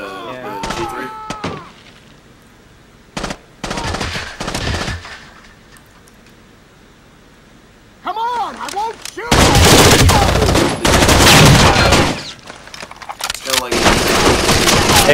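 An MP5-style submachine gun fires in Rainbow Six Vegas 2 during a casino terrorist hunt: loud, dense automatic bursts, the longest in the latter half, with short shots and voices talking earlier.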